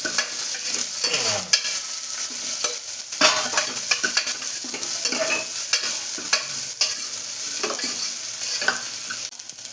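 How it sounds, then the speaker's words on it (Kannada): Sprouted grains sizzle in a hot tempering pan while a spoon stirs and scrapes repeatedly, giving loud, close, rhythmic clatter over a continuous crackle. "ಇವಾಗ ಇದನ್ನು ಚೆನ್ನಾಗಿ ಫ್ರೈ ಮಾಡೋಣ"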